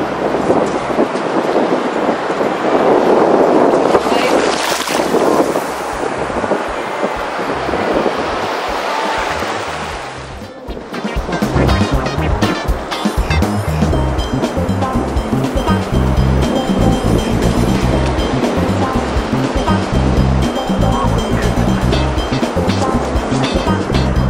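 Ocean surf rolling onto the beach at Mon Repos during a turtle hatching, a steady broad wash of breaking waves with wind buffeting the microphone, continuous and fairly loud.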